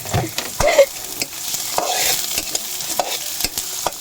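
Garlic and onion frying in oil, a close hiss with sharp scraping stirs and clatters of the utensil at irregular intervals.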